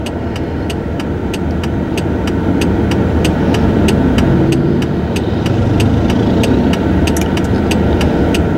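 A 2002 Chevy Malibu with a 170-horsepower engine under load, a steady, loud mid-range engine drone with a regular ticking pulse running through it, no talk.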